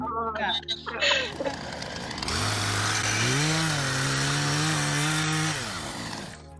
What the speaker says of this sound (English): so I thought I'd get out my chainsaw